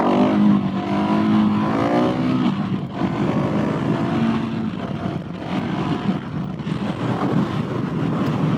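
A Husqvarna 701SM motorcycle engine revs during a wheelie, loud and close, its pitch rising and falling with the throttle over a steady drone, with no talk.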